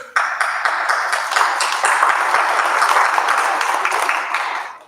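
Applause fills a room at an annual sobriety celebration, a steady broadband wash of many hands clapping at close range, holding level for several seconds before tapering off at the end.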